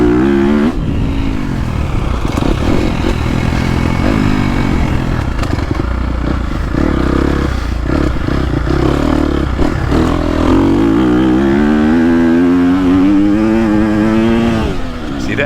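A KTM 250 Factory Edition four-stroke motocross bike is held high in the revs on a GP track. The engine note stays loud and close throughout, rising and falling with the throttle, and its pitch climbs steadily toward the end.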